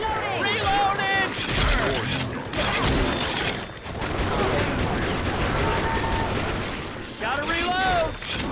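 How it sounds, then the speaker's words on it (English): Dense, sustained gunfire in the zombie shooter Left 4 Dead, loud rapid bursts with mechanical clatter running almost nonstop, mixed with game noise and voices talking over it. "Keep shooting."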